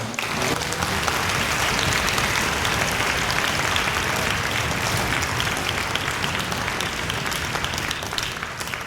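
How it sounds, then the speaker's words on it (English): An audience at a school orchestra concert applauds, a dense, steady wash of clapping that holds for the full stretch and tapers slightly at the end. "So if we can have one more round of applause for our..."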